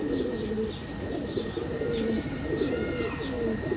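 A pure Firozpuri pigeon coos repeatedly at close range, in soft rhythmic phrases. Faint chirps from other birds in the loft come through behind it.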